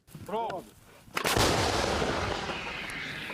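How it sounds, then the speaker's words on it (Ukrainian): Self-propelled artillery guns fire on Russian positions, a heavy blast booming out around 1.2 seconds and rolling into a long echoing rumble that fades slowly, with a brief voice-like tone just before. "Артилеристи відпрацьовують по позиціям росіян."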